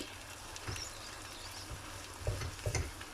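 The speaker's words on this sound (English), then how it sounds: "So just give them a mix. And we'll let it continue to cook." Onions being stirred in a covered cooking pot for French onion soup, a soft scraping stir with faint sizzling, a few louder stirring strokes near the end, fairly quiet and close.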